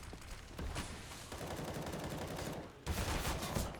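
Gunfire from a professional Counter-Strike match on the Nuke map comes in bursts of rapid shots, with a louder volley near the end. It stays fairly quiet in the mix, and no one speaks.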